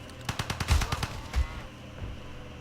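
Artillery bombardment and gunfire in the Civilization V strategy game, a quick burst of several sharp booming shots with low thuds, then quieter rumbling fading out.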